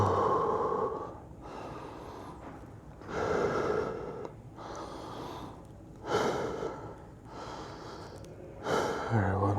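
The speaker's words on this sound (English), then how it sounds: "I'm trying to catch my breath" Heavy, labored breathing after deadlift and lat workouts in repeated bursts of gasps and snorts, close to the ear, each breath loud and ragged with brief pauses between.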